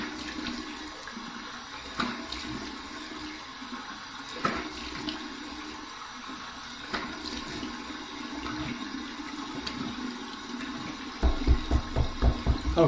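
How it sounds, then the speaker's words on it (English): Cold water splashes and trickles at a sink during a post-shave rinse, with repeated soft splashes and a burst of quicker splashing near the end, fairly close and unaccompanied by talk. "Here is my cold water rinse right now."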